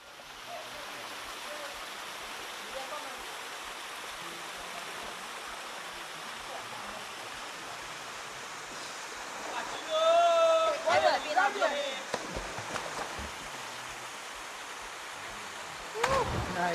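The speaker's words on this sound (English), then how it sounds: "We've come down to Castara Falls" Castara Falls waterfall in Tobago roars as a steady broadband rush throughout, with voices breaking in briefly over it midway and near the end.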